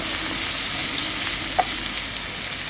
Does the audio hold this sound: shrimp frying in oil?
yes